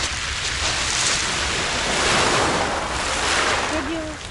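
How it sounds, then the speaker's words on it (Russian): Sea waves curling and breaking beside a breakwater on the shore at Adler, a loud continuous wash of surf mixed with wind rumble. "Закручивается волна возле волнореза"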